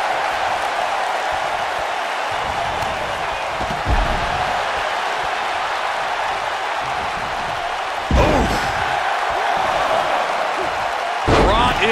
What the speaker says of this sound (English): Braun Strowman slamming into the mat